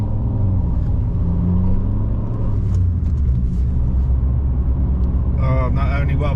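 A cheap, worn FIAT 500 drives in traffic with a slipping clutch, its engine and gearbox giving a continuous low rumble and drone, with a voice briefly heard at the end.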